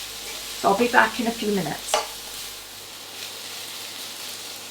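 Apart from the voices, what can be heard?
onions and carrots frying in a pan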